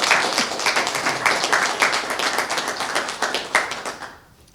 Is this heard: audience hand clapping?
yes